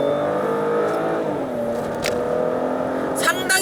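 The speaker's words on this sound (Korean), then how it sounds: "일단 스포츠 모드로 바꾸면 일단 배기 소리부터 달라집니다. 그리고 여기서 약간의 악셀링을 깊게 들어가면" A Maserati Ghibli GranSport with a 3.0 gasoline engine in sport mode hums along, then its exhaust note shifts as the throttle is pressed, heard from inside the cabin with someone talking over it.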